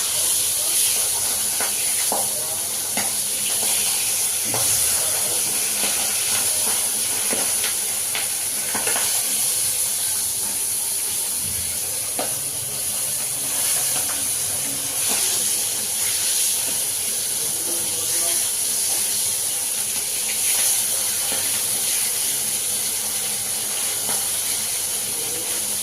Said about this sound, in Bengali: প্রচুর ফাটে কিন্তু এই মাছগুলো, বাবা